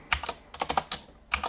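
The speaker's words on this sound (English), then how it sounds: "use the right arrow key on the keyboard" Computer keyboard keys pressed in short clusters of crisp clicks while editing a website design, a quick burst, a pause, then further taps, close and alone.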